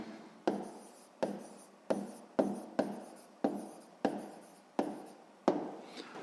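A pen writes an answer on paper for a sixth-grade maths exercise, in close, regular strokes, each starting with a sharp tap and fading into a scratchy drag, about nine in a steady rhythm.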